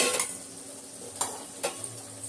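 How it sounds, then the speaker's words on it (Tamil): A spoon stirring coriander into a simmering Chettinad prawn gravy in a pan, three or four distinct scraping knocks against the metal over a soft low sizzle. "கொத்தமல்லி போட்டு நல்லா கலரி விட்டுருலாம்"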